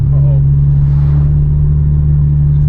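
A Cobra sports car engine drones steadily from behind, a low, constant rumble that holds evenly throughout.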